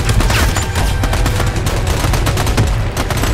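Rapid bursts of gunfire from the PS3 video game Army of Two, dense overlapping shots firing almost continuously at a loud, steady level with no talking.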